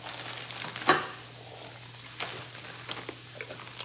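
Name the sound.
rice sizzling in a hot pan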